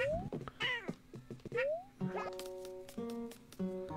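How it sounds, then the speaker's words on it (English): A cat meows repeatedly in a series of rising, wavering calls, fairly close and prominent, overlapping with bright, tonal game music that takes over in the second half. "Can you hear my cat meowing?"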